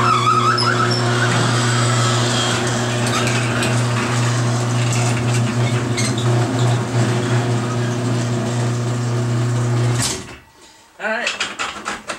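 A garage door opener runs with a loud, steady mechanical drone for about ten seconds, still noisy after a Royal Purple MaxFilm treatment, then stops abruptly. Someone speaks briefly over the quieter tail.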